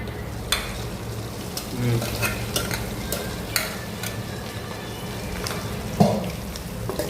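Fish roe frying in oil in a pan, a close crackling sizzle with scattered sharp pops and a few brief clinks of a utensil.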